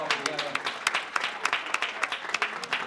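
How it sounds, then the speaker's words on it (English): Scattered clapping from a business forum audience, uneven individual claps rather than a full ovation, fairly quiet and brief. "let's have a round of applause for Naldo."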